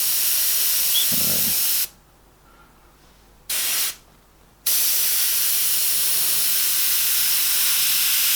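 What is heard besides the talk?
airbrush spraying paint, misting around the outside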